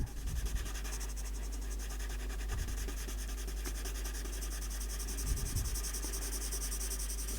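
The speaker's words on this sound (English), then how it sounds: "A bit of shading in that one there, and on this side." A pencil shades on paper while drawing Stonehenge, giving a soft, steady scratchy rubbing of repeated back-and-forth strokes. It is close but quiet and continues throughout with no talking.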